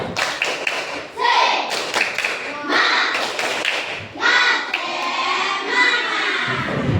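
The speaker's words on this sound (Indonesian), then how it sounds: "Tepuk semangat" Elementary school children in a classroom at an Islamic school do a rhythmic spirit clap: sharp, patterned hand claps and taps at close range, with children's voices chanting and talking over and between the beats.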